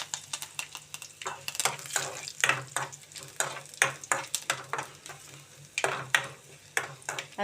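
A tempering of dried red chillies and curry leaves fries in hot oil, with close, steady sizzling and a run of sharp stirring scrapes and clinks against the pan.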